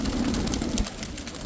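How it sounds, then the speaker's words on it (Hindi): Pigeons give a low cooing call at close range, a brief soft burst that fades after about a second and leaves quiet background noise, with no voices. "एक छोटी सी उड़ान देख के इन कबूतरों की"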